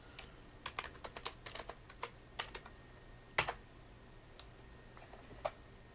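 Password being typed on a computer keyboard while setting up a web interface login, heard as scattered quick key clicks in short bursts with pauses, fairly close and alone with no talking.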